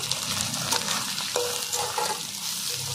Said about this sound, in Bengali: এবার আমি সয়াবিন হালকা করে একটু লাল করে ভেজে নেব।